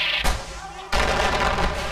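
Gunfire from a Far Cry 4 custom map, a sharp burst near the start and then sustained loud shooting and battle noise that carries on to the end, with speech mixed in.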